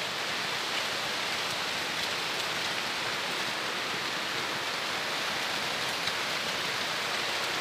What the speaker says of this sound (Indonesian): Terkendala masalah hujan